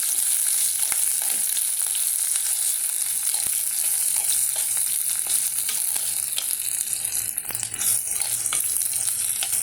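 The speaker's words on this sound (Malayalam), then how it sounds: "പൈനാപ്പിൾ ഒന്ന് വഴണ്ട് വരണം" Pineapple pieces sautéing in a pan for a Kerala-style pineapple pachadi give off a steady, close frying sizzle, broken by occasional stirring clicks and scrapes, with no voices.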